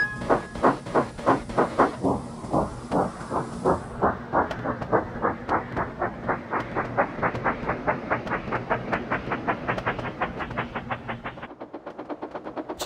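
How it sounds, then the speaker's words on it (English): A steam train sets off down a quiet country line, its puffs starting slow and heavy, then quickening into a steady, loud rhythmic chuff that carries on for several seconds before easing off near the end. "the guard waved his green flag and his driver called out, "Full steam ahead, Timothy."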